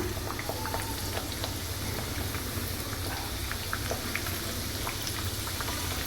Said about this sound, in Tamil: சூட்டில் தான் நம்ம இப்போ பொறிக்க போகிறோம்